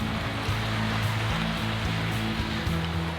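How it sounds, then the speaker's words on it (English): Fizzing of Jack Daniel's Honey premix drink poured over ice into a glass, a steady dense hiss of bubbles with a low hum beneath, continuous and fairly loud throughout. "Look at that fizz!"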